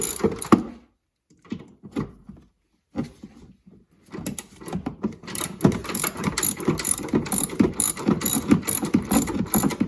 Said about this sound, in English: remove these two shock bolts